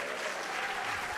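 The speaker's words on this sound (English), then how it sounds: "Little round of applause for them." An audience at an English language teaching innovation awards ceremony claps, a brief dense burst of applause from a crowd in a hall.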